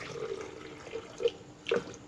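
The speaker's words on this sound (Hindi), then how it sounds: "सबसे पहले मैं इसमें डालूंगा कोई 1 गिलास पानी।" A glass of water poured into a container for fresh guava juice with mint, a soft splashing and trickling with a few brief louder gurgles, heard alone at low level.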